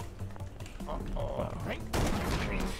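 Rapid gunfire from a battle royale video game, a volley of shots over a busy background with people talking.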